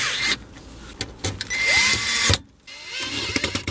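Power driver running in short whirring bursts as supplied screws go into a car stereo mounting bracket during an aftermarket head unit install, close and fairly loud with brief pauses between runs.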